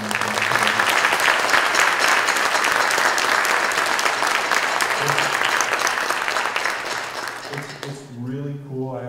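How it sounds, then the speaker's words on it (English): Audience applause for saxophonist Roxy Coss at a college spring jazz showcase, a full, loud wash of clapping that holds steady, then fades near the end as a voice begins speaking. "another huge round of applause,"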